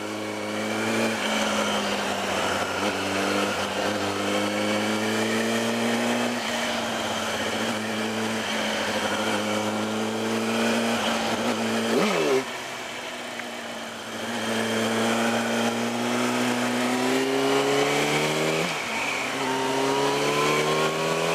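A Yamaha R1 motorcycle engine roars loudly and continuously with a steady, rising drone, dipping briefly as it shifts gears after a clutch replacement, then climbing again, close and sustained with no speech.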